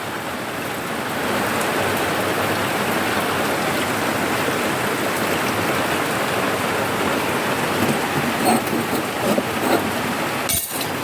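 Steady rain falling, a constant hiss of moderate intensity filling the whole stretch, with a few brief knocks and clatters near the end.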